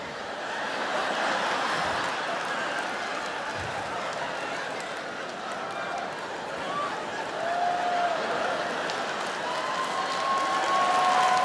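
An audience applauds steadily at a Jeff Dunham ventriloquism comedy show, the clapping loud and sustained from start to finish, with some laughter mixed in and no speech over it.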